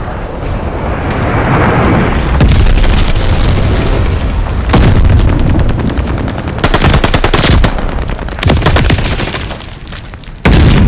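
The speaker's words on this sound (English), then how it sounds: "dive bomb on the way" A dive bomb killstreak in a Call of Duty Vanguard free-for-all match on the Dome map sets off dense, continuous automatic gunfire layered with booming explosions, loud and chaotic throughout.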